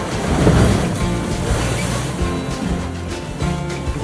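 Seawater surges and washes through the Bamanghal rocky inlet at Hedvi on the Konkan coast, a churning rush that swells and recedes, with low rumbling underneath.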